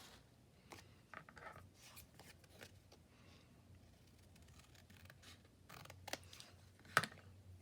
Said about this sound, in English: I need to trim that down just a bit.